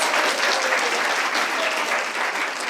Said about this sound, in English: Round of applause for our beautiful question answers.